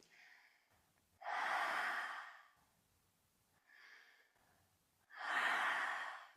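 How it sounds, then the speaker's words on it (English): Pranayama breath work in a kundalini yoga session: three forceful exhalations through the mouth, loud and close, the first and last long and rushing, the middle one shorter and softer, separated by near silence. "This is a deeply detoxifying pranayama or breath work."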